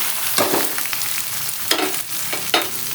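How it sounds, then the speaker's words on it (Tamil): Onions frying in a pan with ginger for a spicy egg poriyal, a close steady sizzle broken by a few sharp scraping stirs of a spatula, no voices. "வெங்காயம் வதங்கிட்டுங்க"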